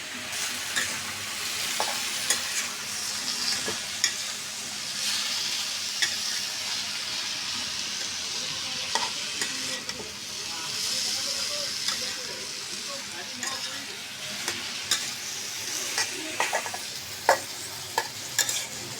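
Spices stirred into pieces of frying fish in a pan, a steady sizzle with scraping spoon strokes and occasional clinks, close and moderately quiet.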